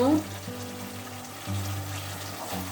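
Chital fish kalia masala with yogurt and a spoon of sugar fries in oil in a home kitchen, giving a soft, steady sizzle under a low hum, with a voice faintly present.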